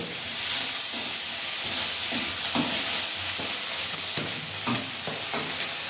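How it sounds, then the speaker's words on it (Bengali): Ginger paste fries with browned onions in a pan, producing a loud, even hiss and sizzle broken by soft scraping stirs every second or so, with no voices over it. "দিয়ে আদাটা ভাজা ভাজা করে নেব"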